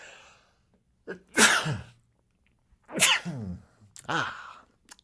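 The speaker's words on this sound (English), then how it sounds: "And I'm about to sneeze." A person sneezes: a sharp, loud burst, then another forceful sneeze and a shorter third one, with breathy inhales and quiet pauses between.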